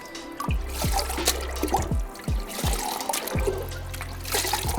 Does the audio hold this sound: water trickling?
yes